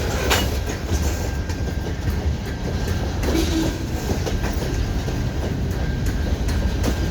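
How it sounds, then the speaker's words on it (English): A CN freight train backing up slowly nearby at St Henri, Montreal, a dense low roar with faint wheel clicks and a brief squeal, steady and loud throughout. "I got a backup move here in St Henri."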